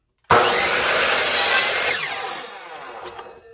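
A saw bites into a wooden board for a birdhouse, one continuous loud rasping cut that starts abruptly, fades after two seconds and trails off into scattered scrapes.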